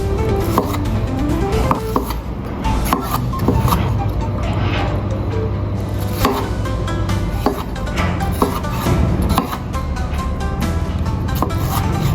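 Knife cutting tomatoes into cubes for a vegan soup, giving repeated sharp chopping taps on a board that come at an irregular pace, heard close over steady background hum and a low, continuous drone.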